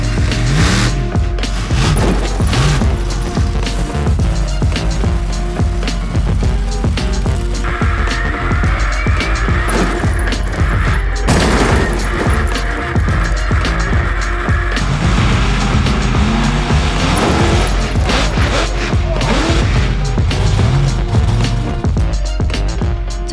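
A homemade monster truck called Swamp Thing, built from lorry and digger parts, rolls over and crushes cars. Loud engine roar runs steadily under repeated heavy crunching metal impacts and rattles.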